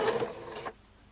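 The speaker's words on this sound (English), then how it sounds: "I'm just sewing under that 1/4 inch" A sewing machine stitching down a folded quarter-inch hem on a pillowcase being turned into a sundress, running as a steady buzzing whir at close range for about two-thirds of a second before it stops.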